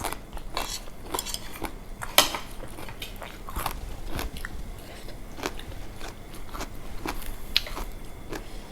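Someone eating boiled field snails with crunchy, chewy bites, alongside papaya salad, pickled rice-field crab and grilled catfish; close, steady crunching and chewing with occasional clinks of cutlery and dishes, no talking.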